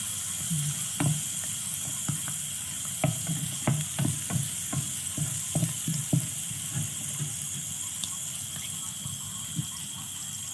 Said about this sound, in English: You allow it to fry a while